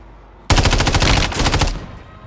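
Automatic gunfire in Warzone 2.0: a loud, dense burst of rapid rounds that starts abruptly, keeps up for about a second and a half, then cuts off into quiet game ambience.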